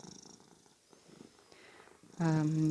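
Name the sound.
cat purring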